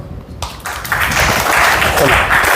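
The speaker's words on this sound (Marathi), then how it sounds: "हिच्यासाठी टाळ्या वाजवा" Applause from a classroom of pupils at a government English-medium school in Igatpuri, clapping for a girl who read aloud; after a brief quieter start, a steady dense patter of many small hands continues close by.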